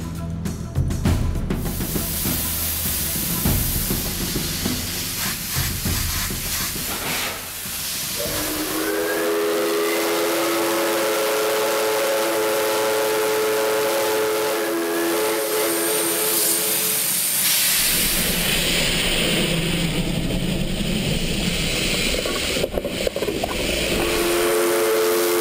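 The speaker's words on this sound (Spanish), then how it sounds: "La locomotora a vapor será la que guíe el final de la aventura ferroviaria" A steam locomotive of the Ecuadorian railway, bound for Durán, hisses loudly with roaring steam, then sounds a long, sustained steam whistle with steady harmonic tones before the hiss and rumble return.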